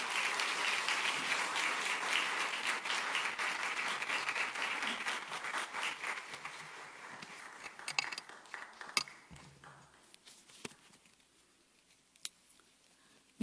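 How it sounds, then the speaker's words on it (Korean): A church congregation applauds to welcome a pastor to the front for a testimony, steady dense clapping that thins and fades out toward the end, with a few scattered final claps. "우리 유 목사님 나오실 때에 우리 크게 한 박수로 환영해 주시기 바랍니다."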